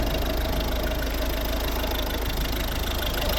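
A 1.6-litre D2 diesel engine in a Volvo V50 idles steadily, a continuous low rumble with a slight knocking texture and no voices.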